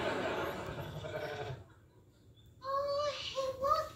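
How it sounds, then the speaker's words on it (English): A sheep bleats in two wavering, nasal calls close by, filling the last second and a half after a noisy, busy stretch and a brief lull. "Oh, hey, look, it's a sheep."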